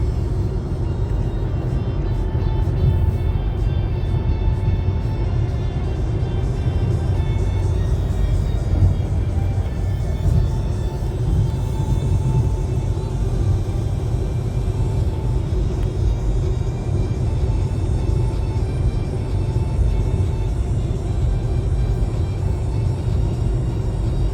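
A Volkswagen e-Golf 35.8 kWh electric hatchback drives steadily, heard from inside the cabin as a constant low road rumble and tyre roar with a faint whir, unbroken for the whole stretch.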